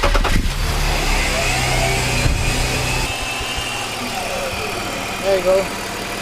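A 2005 BMW X5 E53 engine, running without its fan during thermostat and coolant work, cranks and catches at the start, then settles into a steady, close idle while a person speaks briefly.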